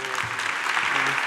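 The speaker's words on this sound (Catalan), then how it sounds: "Un aplaudiment" Audience applause at a mobile technology congress award ceremony in Barcelona, a loud, dense burst of clapping from a large crowd, brief and continuous.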